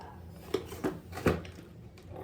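Mixing bowls with lids, a set of two, handled on a kitchen surface, giving three distinct close clicks and knocks spaced about a third of a second apart over a quiet background.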